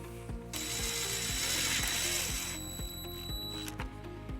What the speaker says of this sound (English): we're going to use the provided self-tapping screw with a 1/4 inch socket